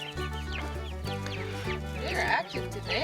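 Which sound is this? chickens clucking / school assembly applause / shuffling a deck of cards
chickens clucking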